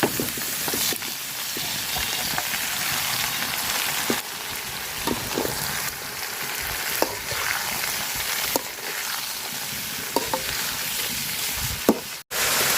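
Shredded cabbage sizzles and fries in a pan with onion, chili and garlic, a steady crackling hiss throughout with occasional stirring clicks, and a brief dropout near the end.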